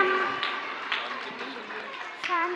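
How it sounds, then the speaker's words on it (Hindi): Audience clapping to cheer on little Gaurang at a Gokul Utsav gathering, scattered uneven handclaps mixed with a voice and nearby chatter. "तालियां बजाते रहे, छोटे से गौरांग का उत्साह बढ़ाते रहे।"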